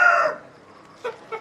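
A chicken gives a loud squawk, then two short clucks after a pause, close and clear.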